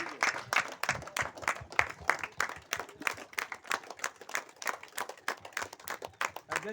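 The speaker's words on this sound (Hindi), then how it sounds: "तालियां बजती रहनी चाहिए।" A crowd claps steadily at an outdoor village water festival in Ghaghari, with many overlapping hand claps forming a continuous, moderately loud patter that keeps going throughout.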